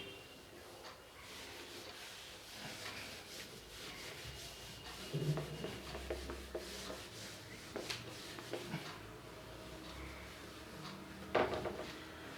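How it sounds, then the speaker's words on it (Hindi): Soft rubbing and scraping as written entries are erased from a board in a classroom, faint and intermittent with a few light knocks, no talking. "हम 2-3 एंट्रीज हम रब कर रहे हैं"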